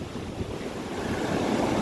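Sea waves breaking on the beach at Parappanangadi on a calm day, a steady broad wash of surf mixed with wind buffeting the microphone, continuous and close with no voices.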